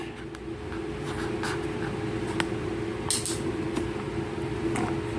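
Pen writing numbers on paper, a steady scratchy scribbling that runs continuously and fairly close over a low steady background hum, with a few brief sharper strokes.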